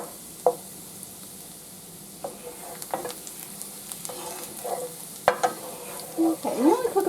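Green beans sautéing in butter over medium heat make a steady soft sizzle, with clattering stirring and scraping in the pan that grows busier toward the end.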